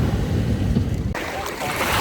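Sea waves washing around someone standing in the shallows off Miami, a steady broadband wash with wind buffeting the microphone, continuous and fairly loud throughout.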